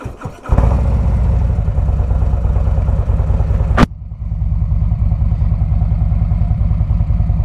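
A 2022 Harley-Davidson Street Glide Special with a Screaming Eagle 131 Stage IV engine cranks and fires, settling into a loud, close, lumpy idle, then cuts briefly and restarts into a steady throbbing rumble.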